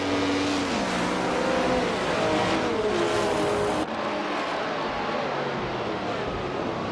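A pack of race cars led by a 1968 Porsche 908 LH Coupe starts a race at Du Grand Sambuc, their engines roaring loud and close, with pitch sweeping through the gears before the sound abruptly dulls.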